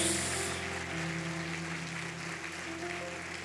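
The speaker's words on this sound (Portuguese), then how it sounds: "Vamos dar uma salva de palmas para Jesus?" A church congregation applauding during a service, a continuous wash of clapping heard throughout, with a sustained musical tone underneath.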